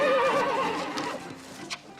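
A horse gives a loud, close whinny that rises and wavers before trailing off, followed by a brief softer snort, with no voices over it.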